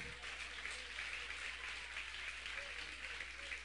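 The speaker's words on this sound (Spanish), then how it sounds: "Dale un aplauso al que vive." A church congregation applauding during a Spanish-language sermon, a continuous, fairly distant and soft patter of many hands clapping, steady throughout.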